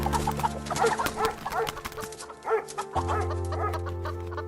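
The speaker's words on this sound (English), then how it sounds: "Rufus, leave them chickens be!" Chickens cluck and squawk continuously and close by in a farmyard scene from a radio drama, with overlapping fowl calls over a steady low hum.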